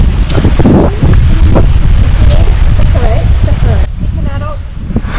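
Strong wind roars and buffets the microphone in a rocky gorge in Karijini National Park, a loud continuous gusting rush with faint voices under it.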